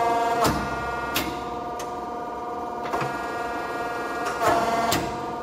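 A Diacro Hydra Power Model 14-72 hydraulic press brake, 35-ton, 6-foot, two-speed, cycles with a steady mechanical hum broken by several sharp clanks and knocks at irregular intervals, close and fairly loud.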